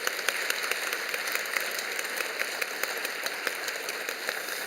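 Church congregation applauding steadily at a Sunday evening service as appointed kindergarten Sunday school teachers turn to greet them; dense, even clapping throughout, moderately quiet and a little distant.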